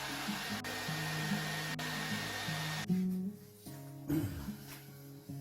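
A Samsung hair dryer blows hot air onto setting cement around a toilet fitting, a steady close whirring drone with its pitch shifting as the dryer is moved and briefly dips, no talking.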